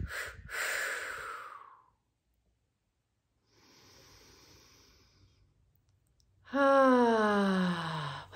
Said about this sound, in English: there's three breaths in that are quick, three breaths out that are quick